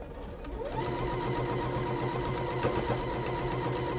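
A sewing machine stitches a reversible fabric door bow at a long stitch length, its motor whirring in a steady close rhythm after a brief start, running alone without talk.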